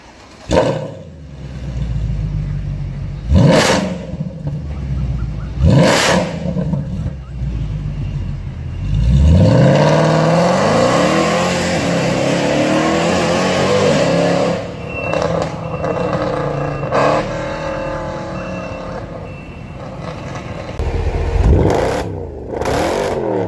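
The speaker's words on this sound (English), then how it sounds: "That bark on startup and the thunderous exhaust note make this one of the most beloved AMG engines ever." A Mercedes-AMG V8 revs hard with a thunderous exhaust note: sharp blips early, then a long sweeping rev that rises and falls, followed by a few more loud blips near the end.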